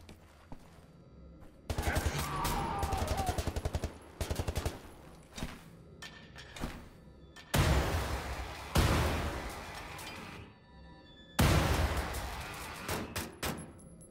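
Bursts of automatic gunfire from Wolfenstein: The New Order, several separate rapid volleys with pauses between them, loud and close, with game clatter in the gaps.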